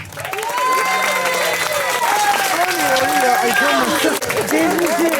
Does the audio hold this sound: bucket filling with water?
no